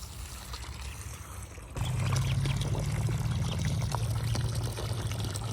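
Water poured into a tub or container for animals at a home, a steady rushing pour starting partway through and continuing loudly to the end, with faint background noise before it.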